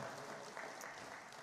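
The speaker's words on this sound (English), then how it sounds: "Give yourselves a really great round of applause because we are all in this together." Brief, fairly quiet applause from a room of attendees at an aviation department's partnership awards ceremony in the Bahamas, a steady wash of clapping heard from a distance.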